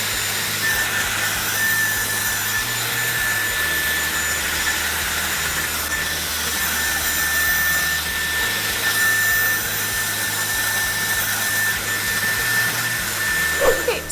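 A Dyson Airwrap hair dryer blows with a steady, loud whoosh that runs through the whole stretch. Its airflow changes slightly now and then as it is moved over medium-length hair.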